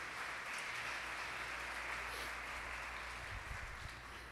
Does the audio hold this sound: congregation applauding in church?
yes